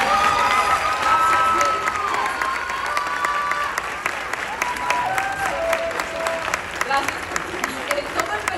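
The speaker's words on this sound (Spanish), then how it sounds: "Quiero pedir un gran aplauso de parte de esta compañía hacia Diego." An audience at a musical theatre premiere applauds warmly, with cheering and shouts rising over the clapping. The sound is sustained and crowded, and a voice speaks over it.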